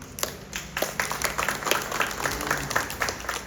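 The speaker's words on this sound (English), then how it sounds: "so give her a round of applause" Applause and clapping from an audience at an Adventist Community Services gathering, a steady round of many hands lasting a few seconds, moderately loud with no talk over it.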